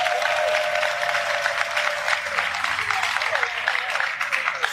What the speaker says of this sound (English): You should applaud yourself.